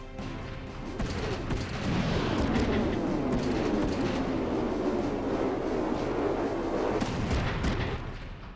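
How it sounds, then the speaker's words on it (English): Missiles fire in the mecha strategy video game Front Mission 3. A sustained, dense roar of launches and explosions swells and then fades, loud and continuous, with no voice over it. "How many missiles has he fired?"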